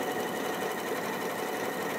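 Elna 780+ sewing machine running fast through fabric, giving an even, uninterrupted mechanical whir with quick stitching rhythm, close and alone without any voices.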